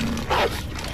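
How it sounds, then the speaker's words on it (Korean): An attacking dog in Call of Duty: WWII snarls with a short, close growling bark in the middle of a noisy gunfight. "미친 멍멍이"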